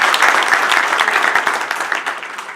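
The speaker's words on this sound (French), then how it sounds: "Miss Velsier, que nous applaudissons" Audience applause at a certificate-awarding ceremony for pharmaceutical sales graduates at the Goethe-Haus centre, a dense, steady burst of many hands clapping that tapers slightly toward the end.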